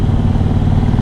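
A 2003 Kawasaki Vulcan 1600 cruiser motorcycle rumbling on a test drive, a loud, steady low engine drone heard close up for about a second.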